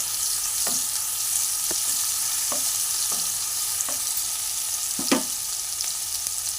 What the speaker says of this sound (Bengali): এর মধ্যে আমি কেটে রাখা লঙ্কাগুলো দিচ্ছি, দিয়ে একটু নাড়িয়ে নেবো এইভাবে।